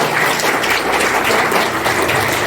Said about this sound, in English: Come on, give a big round of applause.